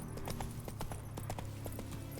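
Roach the horse trots in a video game, hooves clip-clopping in a quick, even rhythm, close and continuous over a low ambient bed.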